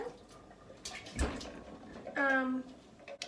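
Canned whole peeled tomatoes are poured into a pan, giving a brief liquid splash and gurgle that is short and close, with some background noise around it.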